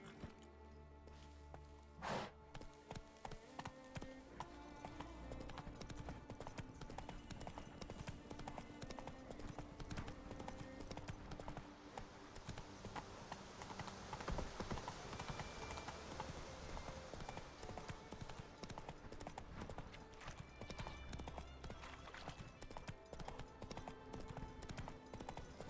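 Horse hooves clip-clop steadily in The Witcher 3, a continuous trotting rhythm that holds for the whole stretch beneath a dense wash of game music and ambience, with a brief whinny-like sound near the start.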